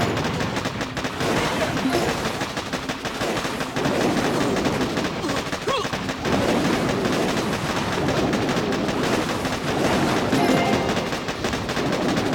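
Cannon and mortar fire from the Boom Beach mobile strategy game, shown as dense, overlapping booms and bursts of gunfire in a busy battle mix that runs continuously throughout.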